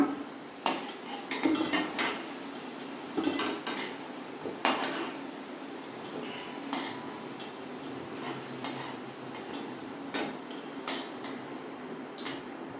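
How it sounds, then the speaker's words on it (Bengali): Fried potatoes for no-onion, no-garlic dum aloo are lifted from hot oil in a pan, giving scattered metallic clinks and taps of a utensil against the pan, with a steady low background hum. "এবার আমি আলুগুলোকে তুলে নেব"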